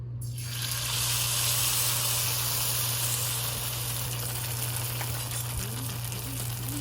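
Malpua batter drops into hot oil and fries with a loud, steady sizzle and bubbling hiss that holds evenly throughout, close up and without speech.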